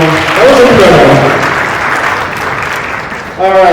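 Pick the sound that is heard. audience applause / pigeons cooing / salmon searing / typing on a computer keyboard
audience applause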